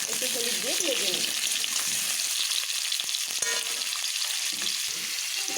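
Potato pieces frying in hot oil in a kadai, seasoned with salt and turmeric, give a loud, steady, crackling sizzle throughout, with a few stirring scrapes near the start.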